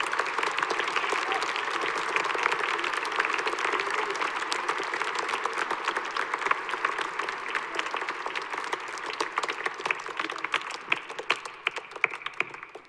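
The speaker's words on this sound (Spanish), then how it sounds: "Un aplauso a nuestra madre." A congregation applauds in a basilica during a Mass, sustained dense clapping filling the whole stretch at a steady level, with a few sharper claps standing out toward the end.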